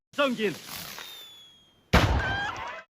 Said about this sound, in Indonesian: Sing lalu menyalakan sebuah petasan, kemudian melemparkannya ke belakang